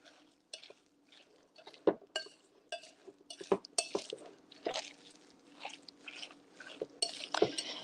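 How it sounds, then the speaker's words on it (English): Shepherd's pie ingredients mixed by hand in a bowl, a run of irregular close clinks, knocks and soft squelching scrapes of a utensil against the dish, with brief pauses between strokes. "I'm going to mix this up."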